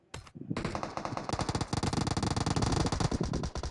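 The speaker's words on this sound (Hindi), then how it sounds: "27 गैंग सुमित की तरफ से एक और फायर हमें देखने को मिला है।" Automatic gunfire in PUBG Mobile during a custom match fight, a brief shot then a sustained rapid burst of close, loud shots rattling on without pause.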